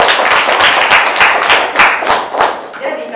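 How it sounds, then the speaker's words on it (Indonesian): Classmates in a school classroom applauding, a loud burst of many hands clapping together at a steady patter, close and sustained across the whole stretch. "Kasih aplaus juga untuk teman kita."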